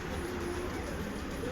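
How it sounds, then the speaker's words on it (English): Model trains at the Hara Model Railway Museum run steadily around their tracks, giving a continuous low rumble and a faint hum at moderate distance, with no breaks. "start up a portion of just the trains on the tracks going round and round"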